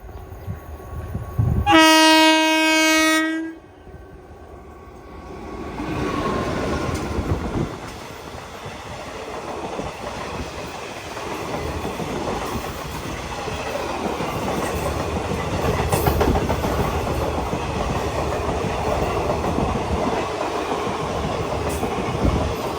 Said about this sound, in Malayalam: Mangaluru central MGR Chennai central mail വരുന്നുണ്ട്